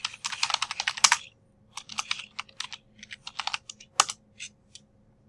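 Keys clatter on a computer keyboard in quick, irregular runs of close, crisp clicks, with brief pauses and a few heavier strokes, and no talking.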